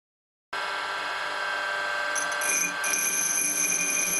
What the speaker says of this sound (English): Some light grinder action and I'm ready to continue.